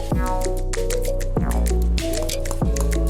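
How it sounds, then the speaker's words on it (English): Water pours over ground Colombian coffee in a pour-over dripper, Lily Drip version 2, making a continuous close trickle with repeated dripping, splashing pulses and gurgles. No voices are heard. "And let's start pouring our first 40 ml."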